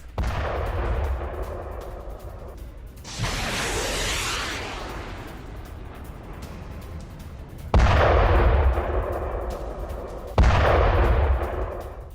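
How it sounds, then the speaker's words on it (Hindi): Hezbollah rockets launched several at once at night: deep, loud roaring blasts and long rumbling whooshes follow one another, with sudden strong onsets that hold and fade across the stretch, and no voices. "हिजबुल्लाह ने एक साथ दागे हैं कई रॉकेट"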